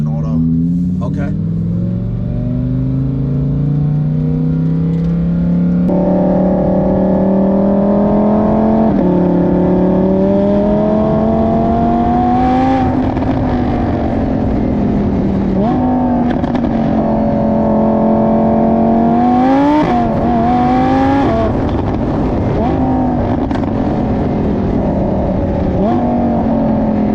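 A 2021 Lamborghini Huracan V10 with an FI exhaust and its valves open revs repeatedly, loud and close, the engine note climbing and falling in waves while someone talks over it.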